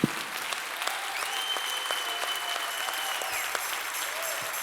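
A church congregation claps for the Lord, a steady loud wash of palms, with a sustained tone from music or a voice running underneath.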